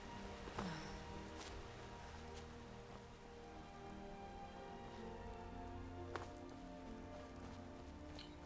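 Steady rain falls in Whiterun in the Skyrim video game, a continuous hiss of drops hitting surfaces, with a few brief sharper taps and no talk.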